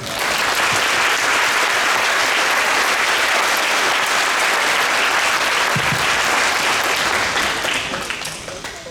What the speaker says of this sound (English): I think we should all give them a round of applause